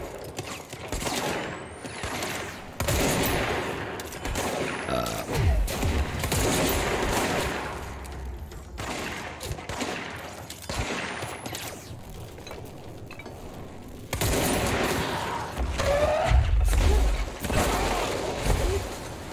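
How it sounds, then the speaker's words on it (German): Explosions and gunfire-like bursts from the video game Control, a dense run of loud crackling blasts and impacts with heavy low rumble, swelling again toward the end. "Geil, diese Explosionseffekte und so. Hammer gut gemacht."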